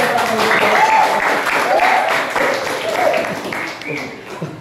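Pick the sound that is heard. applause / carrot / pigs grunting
applause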